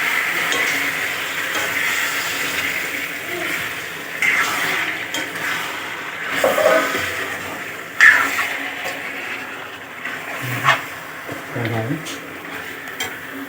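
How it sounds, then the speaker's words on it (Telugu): Chicken frying in a pan gives a steady sizzle under scraping stirs and metallic clinks of a spoon against the pan, with a voice talking intermittently. "చికెన్ ఫ్రై చేస్తున్నాం ఫ్రెండ్ ఈరోజు"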